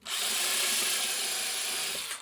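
A power drill drives a screw into cucumber, a softer hardwood, during nightstand building, a single loud, steady whirring burst of about two seconds with a gritty, grinding edge, and no one talking.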